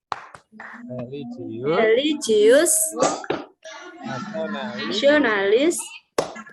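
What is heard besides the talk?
class clapping rhythm during tepuk PPK chant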